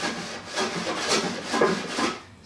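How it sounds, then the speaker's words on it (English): A hand plane shaves across wooden board shelves in a steady series of rasping, rubbing strokes, close and moderately loud, with no talk. "I'm just planing them flat enough that I can give it a light sanding."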